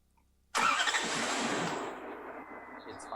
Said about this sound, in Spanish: comprobamos si el motor arranca normalmente